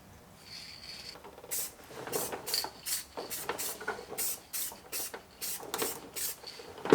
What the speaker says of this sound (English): We're gonna give this mount a fresh coat of paint.